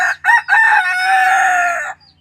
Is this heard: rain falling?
no